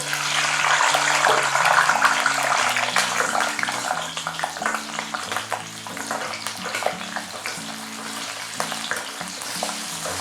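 Small shallots frying in hot oil in a pan, a steady crackling sizzle with scattered pops and occasional stirring clatter, loud and close throughout, with a low musical tone running underneath.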